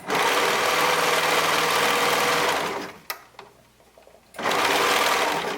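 A sewing machine runs fast and steady while stitching a neckband onto a color-blocked raglan top, a close whirring hum that cuts out abruptly around three seconds, pauses in near silence, then starts up again.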